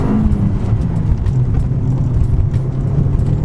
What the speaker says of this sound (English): That air filter sounds alright